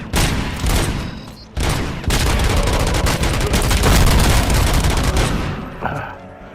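Sustained, heavy gunfire with an infinite-ammo gun in the RoboCop: Rogue City video game roars almost without pause, with a brief drop near the start before the dense, loud barrage resumes and fades at the end.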